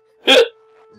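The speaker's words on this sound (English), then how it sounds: "Pickles always give me the hiccups." A single loud hiccup from a woman after eating pickles, one sharp vocal catch close to the listener, followed by near silence.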